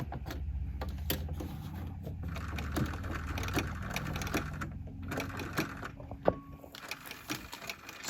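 A quilting sewing machine stitches Grace Company precision cloth leaders in steady rapid bursts, running close and clear with brief pauses between runs, no talking.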